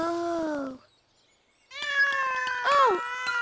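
A cartoon baby cat gives two bright, close meows, a short one followed after a pause by a longer, rising-and-falling cry, clear and alone with no talk.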